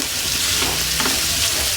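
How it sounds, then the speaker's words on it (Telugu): Curry leaves and green chillies frying in a hot pan for an egg pepper fry, a steady close sizzle with soft crackle throughout and no talking. "మళ్ళీ పచ్చిమిర్చి కూడా వేసుకుందామండి అంతే. ఇవన్నీ కొద్దిగా వేపుకోవాలి."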